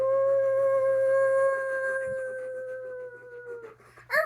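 A person imitates a dog's howl with one long, sustained wavering tone that slowly sinks and fades, followed by a short, sharp vocal yelp at the end.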